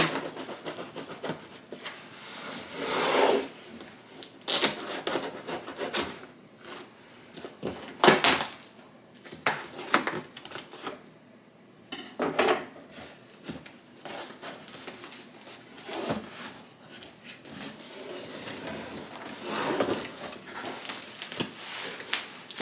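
A knife slicing open the cardboard box of a new Dallas Cowboys rug, heard as repeated scraping, tearing strokes with short pauses, close and fairly loud, no talking.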